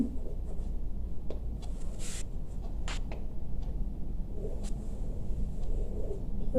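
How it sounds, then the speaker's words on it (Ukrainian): A pen or pencil writes a letter by hand on paper, giving soft continuous scratching strokes with a few sharper taps, faint and close over a low steady background hum. "Пишемо букву І."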